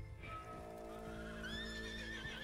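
A horse in the video game Red Dead Online lets out a single clear whinny that rises and wavers in pitch, loud and close over a low steady background, with no talking.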